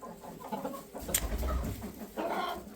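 Crested hens and young chicks in a home coop cluck in short scattered bursts, moderately close, with some rustling and scraping between the calls.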